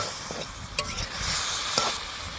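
Pointed gourd and its stems being stir-fried in spice paste in a pan, with a continuous sizzle broken by a couple of sharp spatula scrapes and knocks, nobody speaking.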